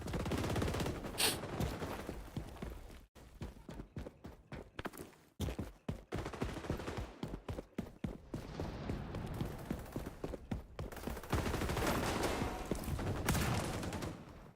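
Gunfire in the multiplayer shooter XDefiant: bursts of rapid automatic fire alternating with short gaps and quieter stretches of footsteps and movement, with sustained loud firefights at the start and end.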